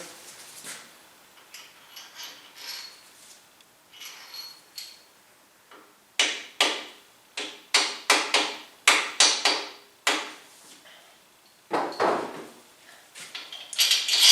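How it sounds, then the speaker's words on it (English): Metal main bearing caps being seated and bolts started on a 383 stroker engine during assembly: a series of loud, sharp metallic knocks and clicks, irregular and close, with no speech. "Get the cap seated, get the bolt started. do that on every main."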